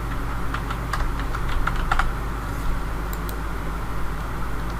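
Steady, close typing on a computer keyboard, with fast irregular key clicks running throughout over a constant low hum of background noise.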